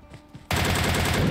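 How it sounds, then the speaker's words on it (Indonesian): Gunfire in a battle royale shooter game, quiet background sounds, then a sudden loud burst of rapid automatic shots that continues steadily to the end, close and harsh. "Oh, ada yang nembakin dari sana."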